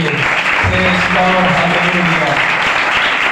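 Church congregation applauding together at a Pentecostal-style Hindi/Urdu sermon, steady dense clapping filling the hall with a sustained tone of voices or music beneath.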